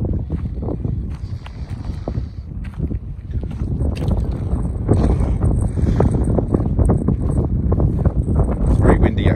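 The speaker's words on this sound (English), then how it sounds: "It's very windy out here in the desert today." Strong desert wind roars and buffets the microphone in a steady, heavy rumble that grows slightly louder partway through.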